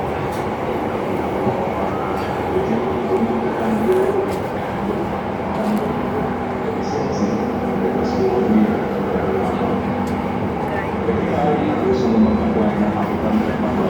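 Steady rumble of a light rail car in motion on the Palembang LRT, a continuous low hum and rattle with faint clicks, heard from inside throughout.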